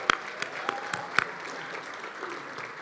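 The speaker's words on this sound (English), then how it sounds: "Let's give them a round of applause" An audience at a community diversity celebration claps for student contest winners, with a few sharp, close individual claps cutting through a softer, steady round of applause.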